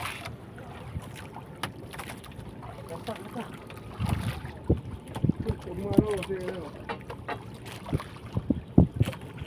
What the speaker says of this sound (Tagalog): Iniikot ang bangka.